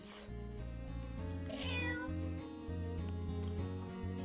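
A cartoon cat meows in a video game, a short bright call rising over steady, loud game music with no talking.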